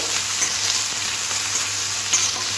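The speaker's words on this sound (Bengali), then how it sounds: "পেঁয়াজটা একটু হালকা ভেজে নিতে হবে" Sliced onions frying lightly in oil for a spicy egg bhujia, a dense continuous sizzle close by and fairly loud, with no one talking.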